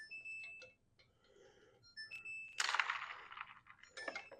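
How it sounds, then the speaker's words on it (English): A kitchen timer goes off while eggs are being cooked for deviled eggs, giving bright repeated dings and a short clattering burst of metallic chiming. "the timer has gone off again"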